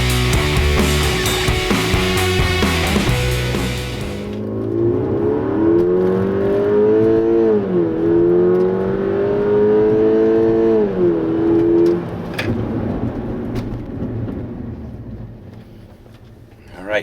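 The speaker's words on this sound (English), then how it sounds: "You get a little bit of wheel spin as the boost builds." A tuned Mk6 VW GTI launches hard on a track at altitude, the loud engine climbing steadily in pitch through the gears with brief dips at shifts and a hint of wheel spin, close and continuous for the whole run.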